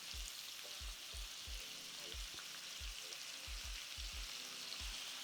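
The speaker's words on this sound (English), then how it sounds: "we're gonna sear this until both sides are nice golden brown" Octopus tentacles sear in a hot pan with a continuous faint sizzle, joined by a regular series of soft low thumps.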